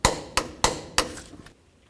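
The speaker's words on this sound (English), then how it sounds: "Now let's torque these to 79 foot-pounds." Brake caliper mounting bolts on a 2007-or-later Toyota Tundra being torqued with a torque wrench, giving four sharp metallic clicks in quick succession, close and clear, with no talk.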